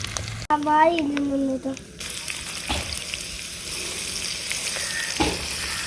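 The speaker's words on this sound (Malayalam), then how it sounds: "അപ്പൊ കുഞ്ഞാപ്പൂ സവാളയോടെ ഇട്ട് കൊടുത്തിട്ട് ഇളക്കിക്കൊണ്ടിരിക്കുകയാണ്" Onions with a little garlic paste fry in a pan for ginger chicken while a young boy stirs them, giving a steady sizzle with scraping strokes after someone briefly speaks at the start.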